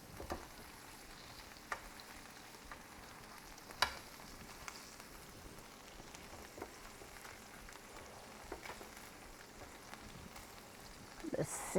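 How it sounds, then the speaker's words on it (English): Mustard-glazed lamb chops sizzle quietly in a hot pan, a faint continuous crackling with scattered pops and small clicks from utensils throughout. "The sizzling."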